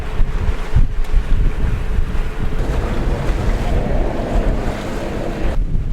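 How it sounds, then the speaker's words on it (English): Strong wind roars across open Atlantic water near Panama while waves wash and slosh close by, a continuous loud rushing with gusty buffeting on the microphone and no voices. "Getting a tad blowy now."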